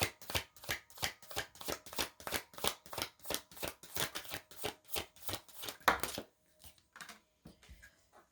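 Tarot cards being shuffled by hand, a fast steady run of close riffling slaps that stops abruptly, followed by a few soft handling sounds as a card is drawn.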